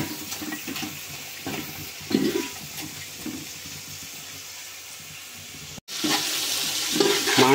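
Chopped onions are stirred in a pan for egg biryani in a village kitchen. Soft, repeated spoon strokes scrape over a gentle sizzle, with a brief break near the end before louder frying resumes.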